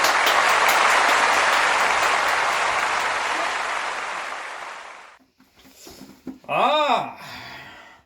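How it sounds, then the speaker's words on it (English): A studio audience at a cooking show gives a round of applause for the doctor, a loud, full burst of clapping lasting about five seconds that cuts off abruptly, followed by a brief voice. "Everybody give a round of applause for the doctor."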